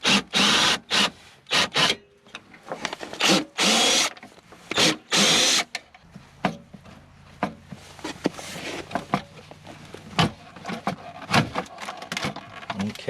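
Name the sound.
screw gun removing screws from a hot tub circuit board plate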